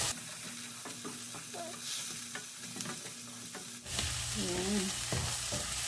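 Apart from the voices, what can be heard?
sautéing in butter, sizzling while stirring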